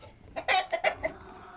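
Fighting roosters clucking nearby, a quick cluster of four or five short, loud clucks, then quiet.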